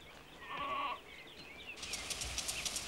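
Faint bleating from goats and sheep grazing among trees in open farmland in central Spain, with a few calls in the first second followed by a steady rustling, chirping background.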